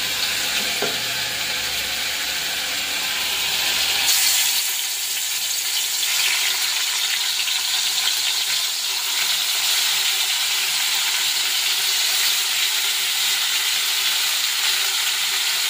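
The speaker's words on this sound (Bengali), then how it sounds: "হচ্ছে এখানে পনিরটা ভাজবো এখন।" Paneer frying in a pan, a continuous bright sizzle and crackle that holds steady from start to finish with no voices over it.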